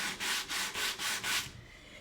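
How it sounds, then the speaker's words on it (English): A sanding block rubs back and forth over a stenciled round door hanger, six even scratchy strokes in a steady rhythm before the sound drops away near the end. "I'm gonna take a sanding block and I am going to dig through my stenciling."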